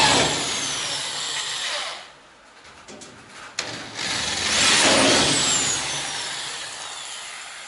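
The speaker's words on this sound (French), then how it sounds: "Je peux donc maintenant percer avec un forêt beaucoup plus petit." A small drill bit bores into the rear body panel of a Citroën Traction 11B: a loud whining drill runs, stops briefly with a few clicks, then spins up again and winds down.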